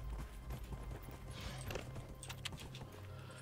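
Horse hooves clip-clopping in Dragon Age Inquisition, a quick rhythmic patter of steps over a faint low game ambience.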